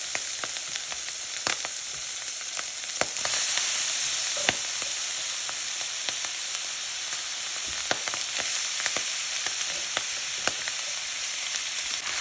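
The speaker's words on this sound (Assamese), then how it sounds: "এতিয়া আমি অকণমান ৰঙচুৱাকৈ ভাজিম" Boiled pork pieces fry in hot oil, giving a steady loud sizzle throughout with frequent sharp crackles and pops, heard alone without talk.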